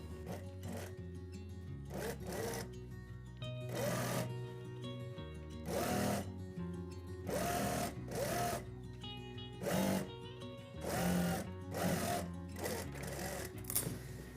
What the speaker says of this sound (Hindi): बिस्मिल्लाह पढ़ के मैं सिलाई शुरू करता हूँ।